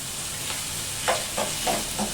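Dried fish masala sizzles in a pan with ginger garlic paste, a steady hiss of frying under a few soft stirring scrapes near the end, close and without voices.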